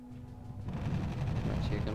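Anti-aircraft fire rumbles through an air battle in a strategy video game, a dense, continuous low barrage that swells in after a quiet start and keeps pounding steadily.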